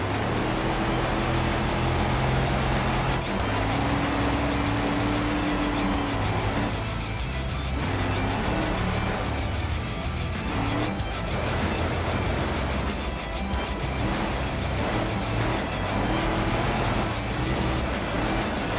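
A 70s muscle car driving in the BeamNG simulator, a loud steady engine drone with rumbling tonal layers and a few bumps across the stretch, no voices.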